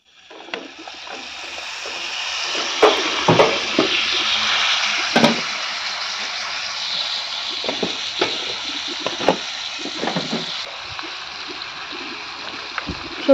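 Masala and oil sizzling in a pan as it is stirred, while cooking tilapia fish with pumpkin greens; a steady soft hiss with occasional scraping knocks from the spoon.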